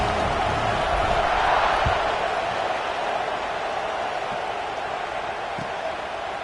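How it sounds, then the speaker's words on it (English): A college football stadium crowd, with South Carolina playing, keeps up a broad steady roar in the distance, and play-by-play commentary runs over it. "this crowd is buzzing after that last score."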